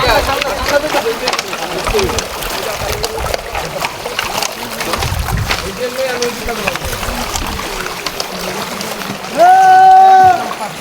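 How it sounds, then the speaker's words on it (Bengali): Hill stream water at Devota Khum rushing and splashing steadily over rocks nearby, with scattered voices and a brief tonal whistle near the end. "আরেকটা ঝর্নার পেয়ে গেলাম ঝিরির পানি আসতেছে"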